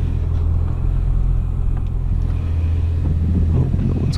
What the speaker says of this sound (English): let's put the vehicle in reverse and take it for a test drive.